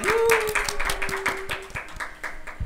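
A small group claps in quick, steady rhythm at an Indonesian talk show about children with disabilities, close and moderately loud, with a voice briefly audible at the start.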